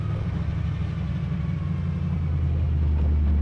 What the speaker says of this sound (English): It's driving real nice and straight down the road.